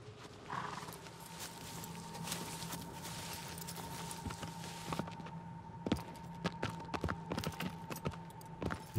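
Horse hooves clip-clop in the video game Shadow of the Colossus, a steady run of sharp, fairly close hoofbeats that grows denser and more irregular as the horse slows, over a quiet ambient hum.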